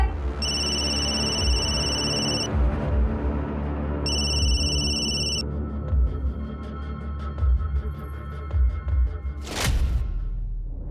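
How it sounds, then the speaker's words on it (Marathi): A mobile phone ringing indoors in a drama scene, a loud electronic ringtone repeating in two long bursts with a pause between, followed by steady background tones and a sharp sweep near the end. "फोन वाजतोय"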